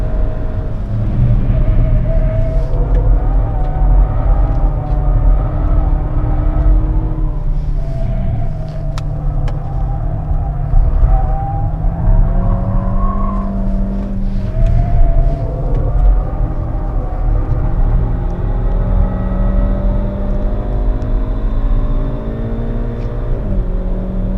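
Skoda Fabia vRS engine heard from inside the car while driving hard, a steady loud rumble that rises and eases as the throttle is lifted and reapplied through corners, with a faint whine over it.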